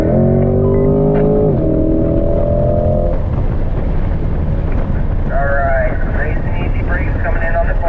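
A C8 Corvette on a race track with its engine droning loud and close, pitch rising and shifting through a corner, heavy wind and road rumble underneath.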